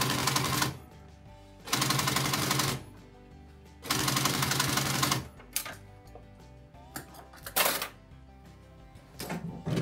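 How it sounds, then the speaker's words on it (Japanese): A sewing machine in a garment workshop running in loud bursts, stopping and restarting with short stitching runs and a few mechanical clicks, heard close and clear with no voices over it. "ミシンがね。"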